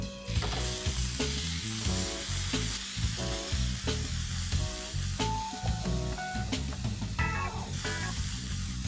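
Minced meat sizzling in a pan with browning onions, a steady crackling fry broken by repeated scrapes and clanks of a spoon stirring, close and fairly loud with no talking.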